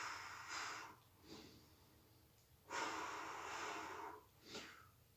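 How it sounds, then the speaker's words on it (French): Breathing during a yoga sun salutation and strengthening exercise, heard as four soft, breathy exhales in an uneven rhythm, close and faint in a quiet room. "Je souffle sur 2 mouvements."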